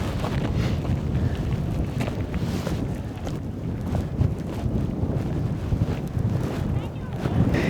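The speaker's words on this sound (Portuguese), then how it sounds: "E tá bem vento." Strong, gusty wind buffets the microphone on the Athabasca glacier, a loud continuous rumble with sharper bursts throughout, while a person talks faintly underneath.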